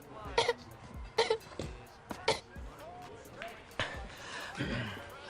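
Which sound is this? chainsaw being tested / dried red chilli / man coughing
man coughing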